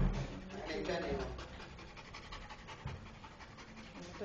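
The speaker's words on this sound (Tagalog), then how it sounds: "Nabuhaw yung aso." A puppy panting close up, with quick, steady, breathy huffs running throughout the clip and people talking faintly in the background.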